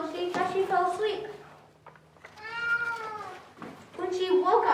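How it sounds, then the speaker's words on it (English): A cat meows several times within a told scary story, drawn-out tonal cries in separate bursts with a short gap between them, fairly close and clear, with no talk over them. "a black cat was sitting near the fire. It stared at her for a while, then purred"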